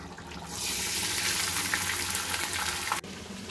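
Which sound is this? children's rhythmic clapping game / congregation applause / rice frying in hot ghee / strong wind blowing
rice frying in hot ghee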